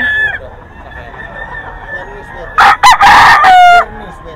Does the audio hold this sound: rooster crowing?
yes